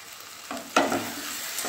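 Spices and sugar sizzling in hot oil for a Bengali fish head curry with moong dal, a short crackling fry with a couple of quick stirring scrapes.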